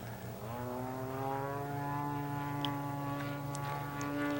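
A large radio-controlled model airplane dives out of a knife edge loop, its engine a loud, steady droning whine that rises in pitch and holds strong throughout.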